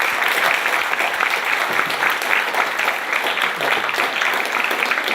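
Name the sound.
audience applause after a talk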